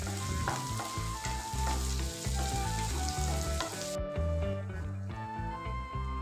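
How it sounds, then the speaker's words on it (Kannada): Onions, green chillies and curry leaves fry steadily in a pan, a continuous sizzle running beneath loud background music throughout. "ಈರುಳ್ಳಿದ ಹಸಿ ವಾಸನೆ ಹೋಗೋ ತನಕ ಒಂದೆರಡು ನಿಮಿಷ ಇದನ್ನು ಫ್ರೈ ಮಾಡ್ಕೋಬೇಕು"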